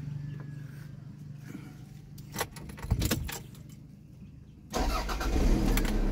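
A cold Toyota car with an automatic transmission (T-IV fluid type). Keys jangle near the ignition, then the engine cranks and catches into a steady, close, low idling rumble.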